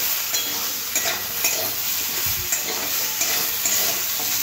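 Vegetables stir-fried with spices in a pan for prawn and spinach ghonto, a loud even sizzle close up with light, regular scrapes of a spatula stirring through it.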